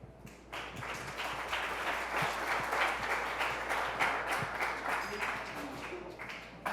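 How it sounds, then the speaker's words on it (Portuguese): An audience claps for a speaker at a talk on socio-environmental restoration, a moderate, even patter of many hands that starts up quickly and carries on steadily, slightly distant in the room. "Palmas, pessoal."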